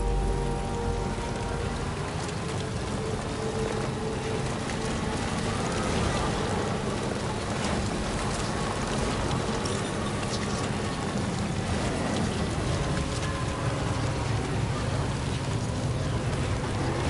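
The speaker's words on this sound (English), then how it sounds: "Raindrops falling on my head" Steady, dense rain falls in the video game Death Stranding 2, a constant close hiss of drops with faint low rumbling underneath and no talk.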